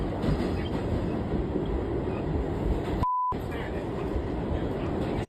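A New York City subway train plays back from a video, a loud continuous rumble of rail noise that fills the clip, broken once by a brief silent gap holding a short electronic beep.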